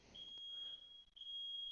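A household smoke alarm gives a thin, high, sustained electronic beep that breaks off briefly and resumes, faint and steady in an otherwise quiet room.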